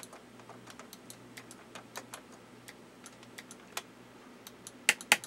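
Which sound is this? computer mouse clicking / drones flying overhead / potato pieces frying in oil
computer mouse clicking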